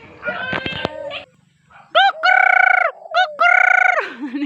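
Loud, honking bird calls in several bursts, close by, after a brief stretch of rustling and clatter at the start.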